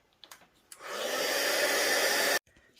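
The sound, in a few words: heat tool drying watercolor on a card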